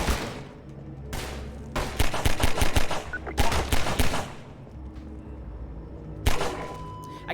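Rapid automatic gunfire from an 18-year-old first-person video game comes in several loud bursts of quick shots separated by short pauses, with a final burst near the end.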